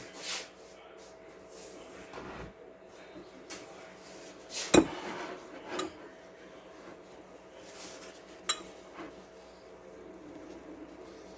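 A lid is set onto a glass jar of sourdough starter, giving a sharp clink followed by a few softer knocks and scrapes, with quiet room noise in between.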